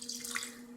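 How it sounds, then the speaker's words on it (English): Melted butter pours from a container into a mixing bowl for sea salt brownies, a brief, soft liquid trickle over a faint steady hum. "Pour your butter"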